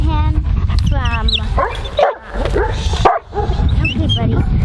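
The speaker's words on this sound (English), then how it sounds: "And this is the puppy's dad, Thorn." An adult dog, father of a litter of puppies, yelps, whines and barks close by in a quick, excited run of sounds with brief gaps.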